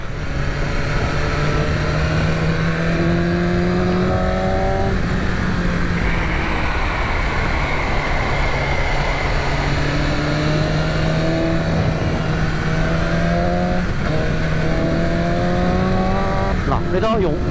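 A BMW M 1000 RR motorcycle on a mountain road, its engine loud and close, revving and climbing quickly through rising pitch sweeps, with brief drops between gears.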